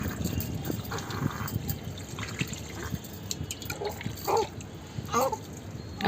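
Water is poured over a three-month-old baby boy during his bath, giving intermittent splashes and drips at close range with faint background voices.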